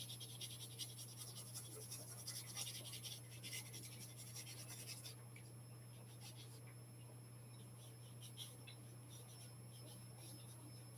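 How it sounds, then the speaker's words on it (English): Pencil scratching and rubbing steadily across paper, faint and continuous, with denser strokes early on that ease into lighter sketching over a low steady hum. "I'll just keep on drawing."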